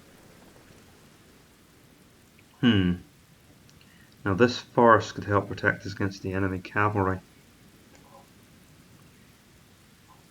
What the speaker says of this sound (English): And of course they attack in the rain.